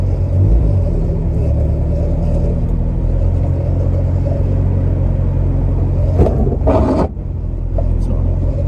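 Toyota Corolla driving slowly off-road, with a steady low engine rumble that stays close and loud throughout, and a brief rattling burst near the end.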